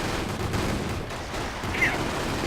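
A Panzerschreck rocket launcher fires in a WWII video game amid a dense, continuous roar of battlefield gunfire and explosions, loud and sustained for the whole stretch with no clear single shot standing apart.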